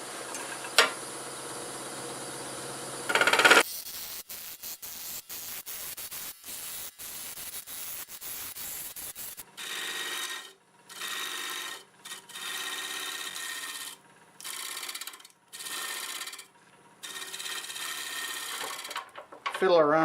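A wood lathe shapes a redwood crotch bowl, with a steady scraping hiss from the tool giving way to bursts of cutting noise separated by short silences, ending in a brief louder rub.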